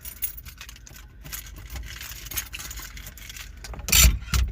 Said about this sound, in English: I have so many keys.